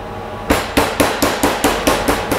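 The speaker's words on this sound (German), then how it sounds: "Dann plattiere ich das kurz von beiden Seiten." A meat mallet pounds a butterflied pork loin steak flat, with eight sharp, evenly spaced thuds in a steady rhythm, loud and close, with no voices.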